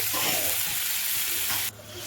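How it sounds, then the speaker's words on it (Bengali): Potatoes sizzle loudly in a hot pan while being stirred, the frying hiss steady until it drops off sharply near the end. "আলুটা ভালো করে ভাজা ভাজা করে নিয়েছি"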